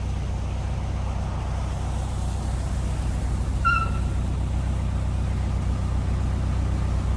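Gridlocked road traffic sits on a bridge over a canal, a steady low rumble of idling and crawling vehicles heard from a distance, with one brief faint squeal midway.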